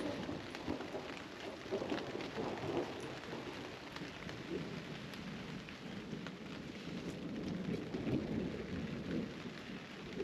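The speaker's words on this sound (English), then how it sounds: "There's a lightning storm overhead, which is really cool. We've got rain, thunder." Steady heavy rain with rumbling thunder during a nighttime lightning storm over an off-grid tiny cabin, a continuous close wash of drops on surfaces with low rolling swells, no voices.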